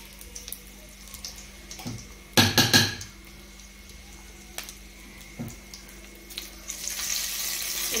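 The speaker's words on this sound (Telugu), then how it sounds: "ఇప్పుడు ఎండుమిరపకాయలు వేస్తున్నాం." Dried red chillies go into hot oil: quiet clinks and brief clatters of utensils, then a loud burst of clatter, and a rising, hissing sizzle builds near the end. No voices.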